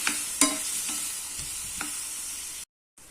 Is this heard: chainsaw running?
no